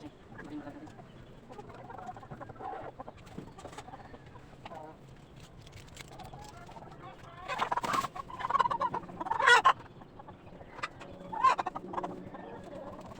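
Rhode Island Red chickens clucking in a backyard pen, soft intermittent clucks and calls near the microphone over low background noise, with a few louder bursts toward the middle and end.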